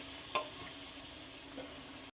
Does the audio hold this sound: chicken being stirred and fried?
yes